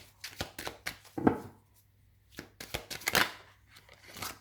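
Tarot cards being shuffled by hand, in several quick papery riffling bursts separated by brief pauses, close and fairly quiet.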